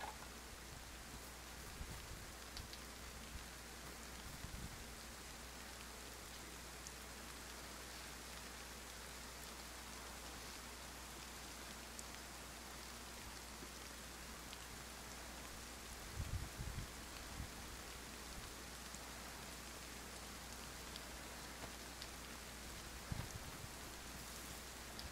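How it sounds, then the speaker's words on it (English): Steady, faint rain falls in the video game DayZ, a constant hiss of drops on surfaces with a few soft low thumps now and then and no voices. "God damn, it's raining."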